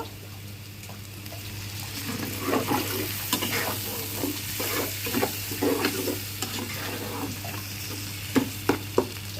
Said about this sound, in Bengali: মশলাটাকে আমি একটু কষিয়ে নেব।